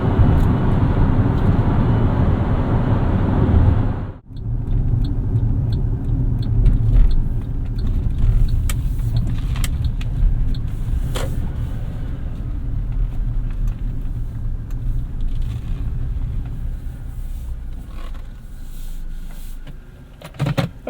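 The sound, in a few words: 2012 Suzuki Grand Vitara driving on highway, interior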